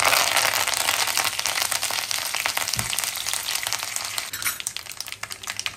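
Asafoetida and curry leaves sizzle in hot oil for misal, a dense close crackling hiss with scattered pops and a soft knock that gradually eases off.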